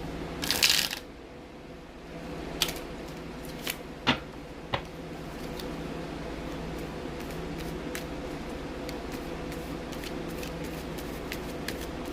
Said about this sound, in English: I'm going to get 5 shuffles